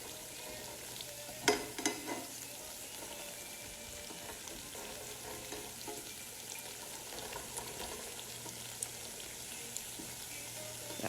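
Food fries quietly in a pan for arroz con pollo, giving a steady, faint sizzle with a few brief clatters of stirring near the start.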